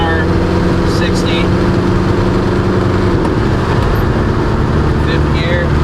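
A Kubota Ranger utility vehicle with a swapped, boosted engine pulls hard at full throttle in fourth gear, a loud steady drone with a pitch shift partway through, heavy road and wind noise throughout.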